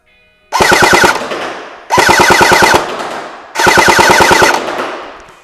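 Full-auto bursts from a BAR M1918 airsoft replica running on a 7.4 volt LiPo battery, fired at a target: three loud, rapid mechanical rattling strings of roughly a second each, separated by short pauses, with no talking.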